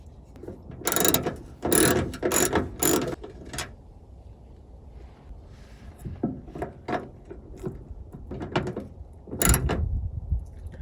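A screw being driven and tightened by hand tool while ditch lights are fitted to a 5th gen Toyota 4Runner, heard as bursts of sharp ratcheting clicks, a quick cluster early and more scattered ones later, close up.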